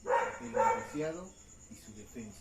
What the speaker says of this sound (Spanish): Disculpen los ladridos del perro